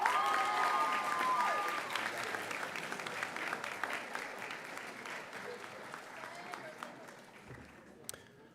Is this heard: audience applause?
yes